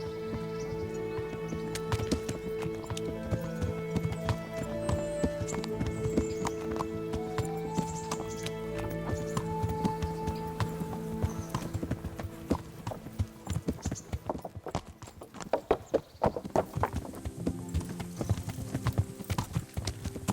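Horse hooves clip-clop steadily in a medieval role-playing game as riders mount up and set off, with a horse whinnying amid an orchestral musical score; the hoofbeats are continuous and moderately loud, with no talk.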